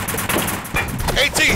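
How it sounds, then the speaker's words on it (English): Tank cannon and gunfire from the Tank Commander VR game ring out in a rapid string of close, loud blasts, mixed with game sound and voice. "Let's see if I can shoot him."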